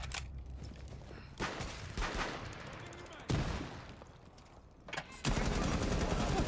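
Rainbow Six gunfire with headshots, dense automatic bursts and cracking shots running continuously and loud, with sharp louder onsets near the middle and end.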